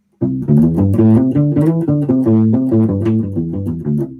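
A U-Bass plays a short melodic run of plucked notes with only treble, a thin, bright tone lacking low-end weight, no talking.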